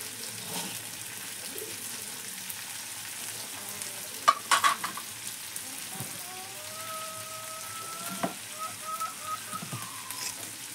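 Shrimp stirred with salt in a frying pan: a quiet, steady sizzle with scattered clinks and scrapes of a utensil against the pan, and a few faint tonal sounds in the background.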